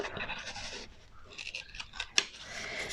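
Scissors snip through paper while cutting out small craft tabs along a drawn outline, a close, soft run of crisp cuts and rustles with one sharper snip near the end.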